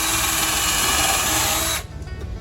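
A power drill bores a pilot hole through pallet wood with a steady, loud whine that runs for nearly two seconds, then cuts out and leaves a softer rattle.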